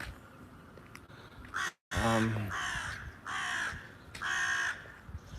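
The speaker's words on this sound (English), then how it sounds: "I don't know if you can hear that, guys. There's a crow there" Harsh, drawn-out crow caws repeat several times nearby, loud and hoarse, over a low murmur of outdoor background noise.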